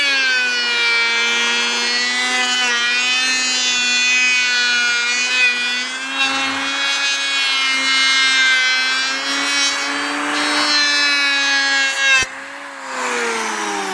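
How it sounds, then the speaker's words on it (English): An electric planer runs continuously across scaffold board wood set for a shallow cut, a loud, steady high-pitched motor whine with rising and falling cutting noise that drops away abruptly near the end. "Just try and show you this electric planer."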